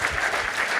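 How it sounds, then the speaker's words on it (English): Audience applause at a live Boston event, a brief, steady burst of many hands clapping together at constant loudness. "And a round of applause for Meghna Chakrabarti also."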